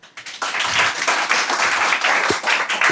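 A classroom of students bursts into steady, dense clapping during a 12th-class chemistry lesson, fairly close and continuous after a brief start, with a short voice cutting in near the end.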